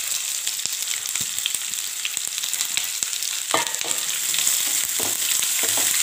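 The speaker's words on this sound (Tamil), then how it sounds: "போட்டு நல்லா வதக்கி விடணும், வெங்காயத்தை நல்லா வதக்கி விடணும்" Onions sautéing in a pan with mustard seeds and urad dal, a constant close sizzle broken by repeated scraping stirs and occasional louder clatter of the spoon, with no talking.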